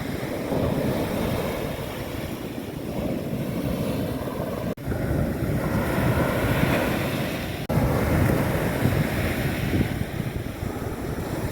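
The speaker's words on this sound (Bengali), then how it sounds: "ওরে বাবা বিশাল ঢেউ হচ্ছে এদিকে" Large ocean waves surge onto the shore at Bakkhali beach, a continuous loud broadband roar of surf mixed with gusting wind buffeting the microphone, with two brief dips where the noise cuts out momentarily.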